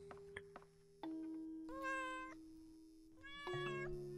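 A cat meows in the horror video game Layers of Fear, two drawn-out, clear meows separated by soft clicks and a low sustained tone, close and alone without talk.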